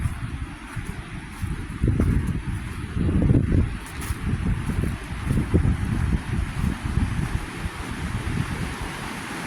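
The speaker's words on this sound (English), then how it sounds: "There's a big beautiful waterfall." A big waterfall in a garden setting, heard as a steady, loud low roar of rushing water with gusty wind buffeting the microphone and no voices.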